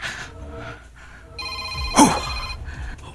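A cellphone rings in a quiet room at midnight, a short electronic ringtone burst standing out clearly with steady tonal notes, close and fairly loud, with no talking over it.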